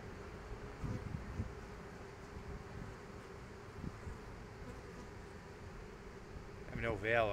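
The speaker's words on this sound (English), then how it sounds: "You see some bees by the entrance that are flapping their wings and giving the signal, everyone, come in here." A swarm of honey bees fans their wings at the entrance of a hive box, giving a steady low buzzing drone close up under wind noise, with a voice speaking near the end.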